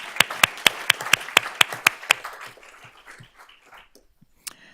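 A round of applause at a school board of trustees honors meeting: several sharp, rhythmic claps close by, followed by softer scattered clapping that fades out, with one last clap.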